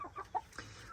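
Pet chickens in a heat-lamp-warmed coop give a few soft, short clucks in quick succession, quiet and nearby.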